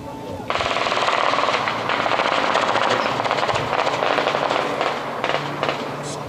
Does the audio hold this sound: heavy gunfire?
yes